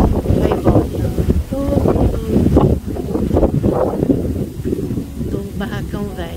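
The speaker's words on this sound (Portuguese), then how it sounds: "Tem hora que dá aquela ventania que parece que vai derrubar tudo." Strong wind gusting outdoors by the water under a stormy sky, roaring steadily into the microphone with loud buffeting throughout, a few brief tonal sounds poking through the rush.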